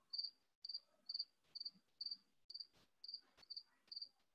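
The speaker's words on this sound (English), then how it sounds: "You guys all can hear my cricket." A cricket chirping indoors in a quiet room, giving faint, evenly spaced trilled chirps about twice per second with only soft background noise between them.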